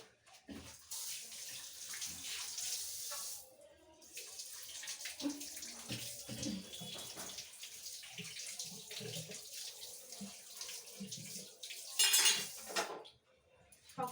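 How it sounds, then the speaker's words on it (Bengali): Dishes, pots and pans from the previous day's cooking are scrubbed and rinsed in a home kitchen, with running tap water, clattering utensils and a sharp metallic clink near the end, all close and steady. "এখন রান্নাঘরে এসে বাসন কোসন সব ধুয়ে নেবো"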